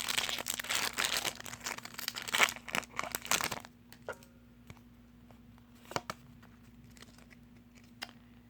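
Crinkly foil wrapper of a Yu-Gi-Oh Battles of Legend Armageddon booster pack tearing open up close, a few seconds of dense crackling that drops off into sparse clicks and light handling of the cards.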